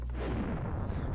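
A bomb explosion in the video game Kaiju Paradise, heard as a heavy, rumbling low boom that fills the moment, with a sharp burst right at the end.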